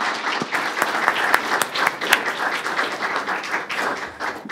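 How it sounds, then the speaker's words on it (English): An audience gives a round of applause to thank the panelists after a panel discussion, dense steady clapping filling the room at moderate loudness, with a few sharper individual claps standing out. "If everyone could please give a little round of applause to thank them for"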